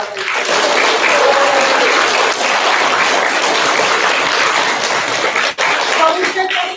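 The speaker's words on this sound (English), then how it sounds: "Can we all clap for them while they sing?" An audience at a fourth-grade school event claps loudly and continuously for several seconds, with voices faintly mixed into the thick applause.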